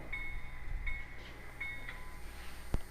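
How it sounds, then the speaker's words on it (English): A model train locomotive's small electronic bell dings repeatedly at a steady interval over a low rumble, ending with a sharp click. "and bell."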